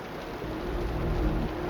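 Steady rain falls in the video game Wuthering Waves, a dense even patter on surfaces with a low rumble underneath, continuous and fairly close.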